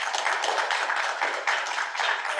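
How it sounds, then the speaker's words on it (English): An audience at a marine lab open house speed-talk session applauds a student speaker, a dense, steady wash of many hands clapping close by with no voices over it. "So let's give a round of applause."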